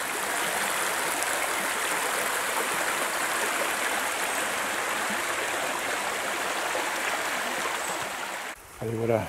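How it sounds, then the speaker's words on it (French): A mountain stream rushes steadily nearby on a hike in the hills near Ciboure, a loud, unbroken wash of flowing water, cut off abruptly by a brief different sound at the very end. "je viens de longer le ruisseau que je viens de traverser"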